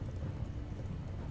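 A dense, low rumble of thunder with steady rain hiss fills the scene as a storm sound effect in a tabletop role-playing game, loud and continuous with no talk.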